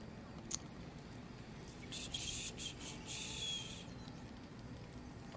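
A bird calls in the fantasy game Baldur's Gate 3, giving a short chirping trill over a low steady ambient hum with faint insect-like texture.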